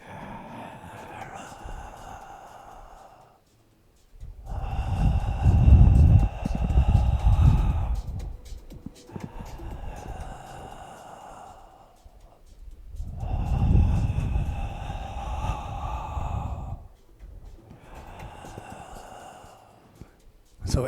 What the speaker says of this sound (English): Listen to that breathing.